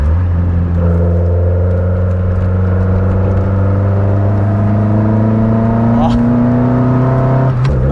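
An Alpine car engine revs steadily after an ignition distributor tune-up and climbs in pitch, a loud continuous drone held over several seconds with a brief surge near the end.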